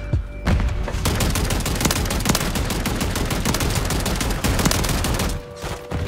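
Sniper rifle gunfire in Call of Duty Warzone crackles in a dense, loud barrage of rapid overlapping shots, continuous for several seconds with no talk.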